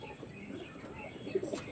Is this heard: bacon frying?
no